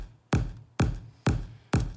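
Compressed kick drum with boosted low mids in a dance music mix, four evenly spaced hits that sound fuller and denser in the body, each a sharp thump with a short sustained tail, heard alone.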